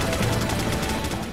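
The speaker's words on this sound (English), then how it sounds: "Who that shooting?" Rapid gunfire in the video game Resident Evil 4, a fast run of closely spaced shots that stays loud and steady throughout.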